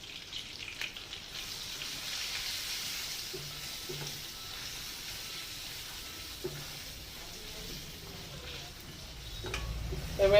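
Raw mango being fried with turmeric and chilli in a pan, giving a quiet, steady sizzle with a few faint clinks of stirring throughout.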